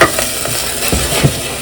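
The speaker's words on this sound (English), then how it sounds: "Now I'm going to add some onion, and this was frozen," Frozen onion hits a hot pan and sizzles steadily with scattered pops and splatters while it is stirred, close and fairly loud, with no talking.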